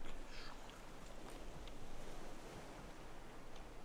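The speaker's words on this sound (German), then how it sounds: "Alter, die Wellen, die schlagen so hoch, die kommen sogar hier rein" Ocean waves in the Raft survival video game wash and crash in a steady, broad roar with wind-like hiss, continuous and fairly close, with no voices.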